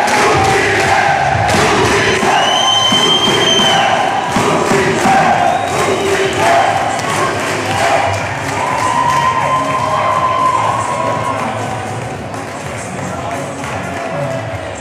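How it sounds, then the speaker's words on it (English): A boxing-match crowd chants and cheers loudly throughout, a dense wall of voices with rising shouts and occasional whistles, while an announcer's voice carries over the din. "And now the crowd chanting."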